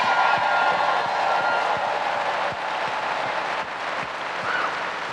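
A live audience at a Detroit podcast show cheers and applauds, a dense wash of clapping and crowd noise sustained throughout, fairly loud and even, easing slightly toward the end.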